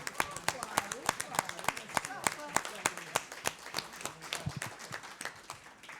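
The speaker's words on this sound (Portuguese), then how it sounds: "Umas palmas." An audience at an architecture book launch claps in a lively, dense burst of applause that fades slightly toward the end, with a voice speaking over the clapping.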